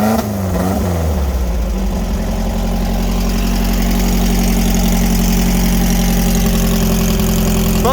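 A VW sandrail buggy engine idles loudly and close after a cold start on a cold day, a steady, rough, continuous drone with a brief rev-up change in the opening second.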